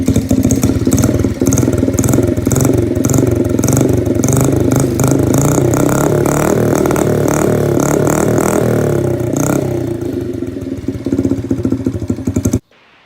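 A dirt bike engine runs loud and close with its stock exhaust, before a homemade baffle is fitted: a steady rapping, throbbing note with slight revving that cuts off abruptly near the end.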